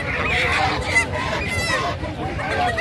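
Geese and Campbell ducks at a busy poultry market in Mirpur honk repeatedly and loudly, several birds calling over one another, with faint background chatter from people nearby.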